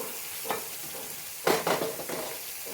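Salted lemons stirred in a pan for a date and lemon pickle, with brief scraping and sizzling bursts over a soft background hiss and no voices.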